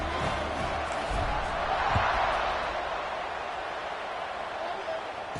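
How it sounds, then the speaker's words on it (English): A football stadium crowd buzzes in a broad, steady roar after a 1-yard touchdown plunge at a Sun Devils game against Washington State, heard beneath a play-by-play announcer talking throughout. "this crowd is buzzing after that last score."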